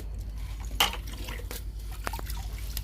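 Homemade liquid fertilizer poured from a mug onto okra and tomato plants, close wet splashes and drips with a few sharp spatters over a low steady background rumble, no talking.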